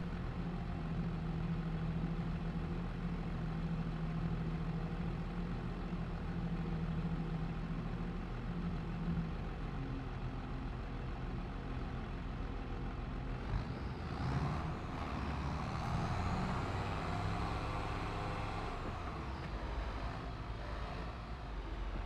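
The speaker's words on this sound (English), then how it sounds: "It's a gear shifting tractor." Gear-shifting tractor engine idling in a farming video game, a steady low rumble held throughout at constant level, with a slight shift in tone partway through.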